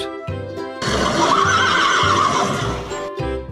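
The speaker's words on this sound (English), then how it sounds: "Horse." Toy-demonstration horse neigh for children, a single long loud whinny rising and falling over about two seconds, framed by brief clip-clop-like hoof sounds, close and alone.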